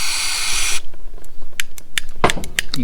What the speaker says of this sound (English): Spray a bunch of PB blaster on it, both up here and in there, then brake clean.